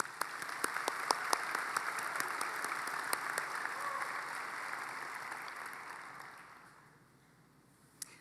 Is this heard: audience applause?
yes